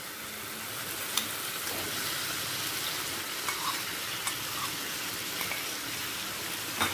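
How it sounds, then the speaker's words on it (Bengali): Paneer is sautéed with spices and tomato in a pan over a medium-high flame, giving a constant crackling sizzle punctuated by sharp spatula taps and scrapes every second or so; no voices. "পনিরটাকে মশলার সাথে ভালো করে কষিয়ে নেব।"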